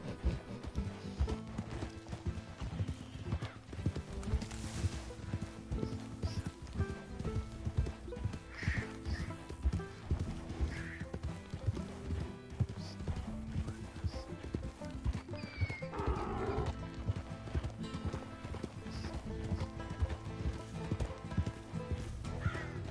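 Horse hoofbeats in Red Dead Redemption 2 as a rider heads toward Emerald Ranch, a steady clip-clop running beneath game music with a couple of neighs and whinnies mixed in.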